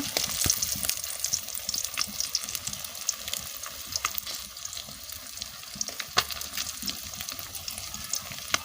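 Oil sizzles and crackles continuously as fish fries, with sharp pops scattered throughout over a steady frying hiss.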